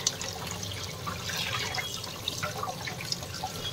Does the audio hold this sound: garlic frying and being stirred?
no